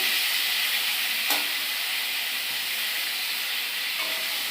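Pointed gourd frying in a pan, a steady loud sizzle and hiss of oil with a brief stirring scrape, close and continuous with no talk.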